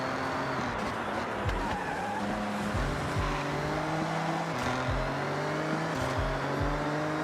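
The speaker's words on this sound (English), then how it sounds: "So they have to brake early, like he just did." Nissan Skyline GT-R in the Forza Horizon 6 racing game, with a steady loud engine drone, pitch dropping in repeated steps as it shifts and brakes early, and some tire noise.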